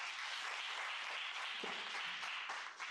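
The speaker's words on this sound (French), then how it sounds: "On applaudit pour elle." An audience applauds a speaker at a marketing talk with a dense, steady wash of many hands clapping, fairly faint and distant, sustained for a few seconds before thinning slightly at the end.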